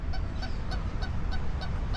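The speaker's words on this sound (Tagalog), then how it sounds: "Tapos may mga bibe, duck." Ducks at Lotus Pond in Kaohsiung quack in a steady repeating series of nasal calls over a dense outdoor background rumble, fairly distant.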